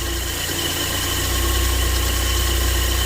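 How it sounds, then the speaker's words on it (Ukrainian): A car engine fitted with a factory DAAZ carburetor idles at a steady, even speed, a continuous close mechanical hum with a low rhythmic throb and no talk over it. "Оце карбюратор заводський а не китайські, не осе, а не пекар. Отак він працює, щоб ви розуміли"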